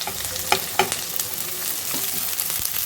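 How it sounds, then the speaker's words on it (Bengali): Onion stalks with green chilies sizzle steadily in a hot pan, broken by a few sharp clinks and scrapes of a spatula stirring, close and clear with no voices. "পেঁয়াজের কলিটাকে একটু ভাজি করে নেব।"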